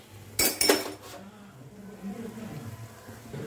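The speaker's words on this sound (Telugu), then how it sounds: "ఎండుమిరకాయలు వేసుకోవాలి." Dried red chilies drop into a hot pan of chutney during cooking, giving a couple of sharp metallic clinks and a brief clatter, followed by a quiet low sizzle.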